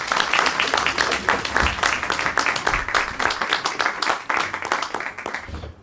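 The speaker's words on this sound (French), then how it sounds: "On peut applaudir Benjamin." A concert audience applauds the orchestra conductor Benjamin with sustained, fairly loud, dense clapping that carries on evenly throughout.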